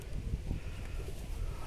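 Pigeons cooing around the Malinithan temple at Likabali in Arunachal Pradesh, soft low repeated coos amid outdoor ambience, moderately near and fairly quiet.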